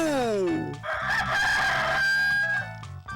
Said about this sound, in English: How about a rooster with a cock-a-doodle-doo?